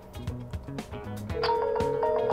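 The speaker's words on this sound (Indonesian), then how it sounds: "ini dia masuk teleponnya" An incoming call tone plays on a PoC radio handset, a bright steady electronic ringing tone that starts partway through, over a busier stepped melodic sound heard near and clear.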